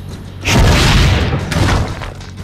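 A training dummy cannon fires in the Assassin's Creed Brotherhood video game, a single heavy booming blast that swells loudly, holds with a rumbling tail for about a second, then fades.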